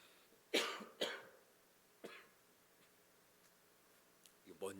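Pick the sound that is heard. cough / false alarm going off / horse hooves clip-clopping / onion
cough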